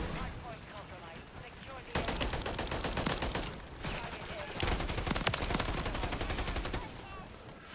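Video game gunfire comes in dense bursts of rapid, automatic shots with brief pauses between them, loud and sustained, while voices talk underneath.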